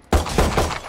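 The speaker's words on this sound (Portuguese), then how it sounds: "botão direito dá um burst fire, assim, ó, sai três tiros" A Glock-style pistol in the shooter game Valorant fires a quick burst, several close, loud shots in rapid succession within under a second.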